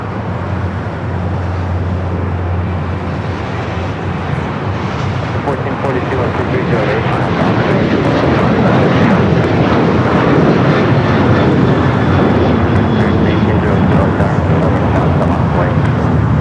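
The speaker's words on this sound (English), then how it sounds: "A350 heading here to the south side. We'll be taking off 25 right." A Delta Airbus A350 jet takes off from runway 25 right at Los Angeles airport, its engines a loud, steady, broadband roar that swells over sixteen seconds, with a person talking throughout.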